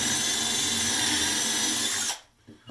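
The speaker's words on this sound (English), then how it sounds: "I am drilling on the rough side right now." A power drill bores partway into rough-sided wood for a woodpecker feeder, giving a loud, steady whine for about two seconds before stopping abruptly, followed by a brief quiet clunk.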